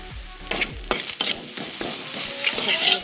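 Spices being stirred into a brinjal curry in a pan, with close scraping and stirring strokes and a light sizzle of frying underneath.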